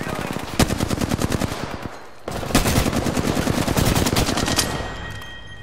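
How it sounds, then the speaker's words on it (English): Rapid automatic gunfire from the video game Apex Legends, a dense burst of shots in two sustained bursts with a brief pause between them, loud and close. "Taking fire! I need heavy ammo. Firing!"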